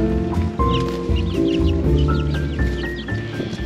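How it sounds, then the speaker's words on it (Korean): Chicks cheep and cluck beside a lake in a town in Madagascar, with short high calls repeating through steady outdoor background noise, fairly close. "병아리들이네"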